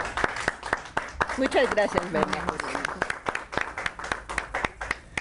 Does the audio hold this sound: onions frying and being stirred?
no